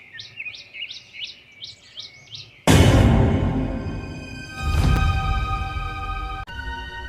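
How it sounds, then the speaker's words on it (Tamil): Cartoon sparrows give a quick series of bright, repeated chirps for about two and a half seconds, heard alone before loud music takes over. "மேலே இருந்த குருவிங்க சத்தத்தை கேட்டு நரி மேல பார்த்துச்சு."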